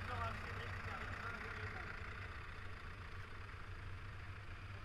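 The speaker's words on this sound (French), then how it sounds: "Devant chez Alain Parot, les tracteurs ils passent, là, ils arrivent" Vintage tractor engines rumble at a vintage machinery gathering in St Saturnin, Berry, a steady low idling drone at moderate distance with voices talking over it.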